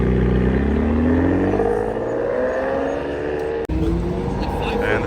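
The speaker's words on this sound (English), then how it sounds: "And the 599 is leaving." A Ferrari 599 supercar pulls away on a New York street, its engine note rising in a long sweep that stays loud and close, with people talking over it.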